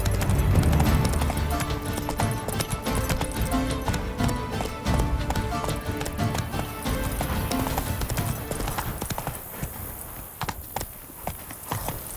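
Roach, the horse in The Witcher 3, clip-clopping steadily on hard ground with close, rhythmic hoofbeats, a brief whinny near the start, and the pace easing toward the end.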